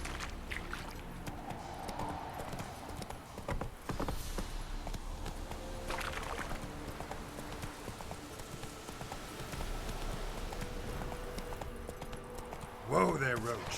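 Hooves of Geralt's horse Roach in The Witcher 3 clop steadily on a trail at moderate distance, a quiet rhythmic trot running under speech.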